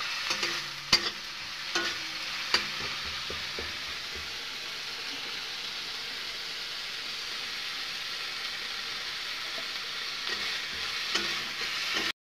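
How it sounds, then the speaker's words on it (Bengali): Spices frying in a pan with a little water, a steady close sizzle running throughout, with a few clinks of the stirring spoon near the start and no talk. "আমি মশলা ভালোভাবে ভাজিয়ে নেবো।"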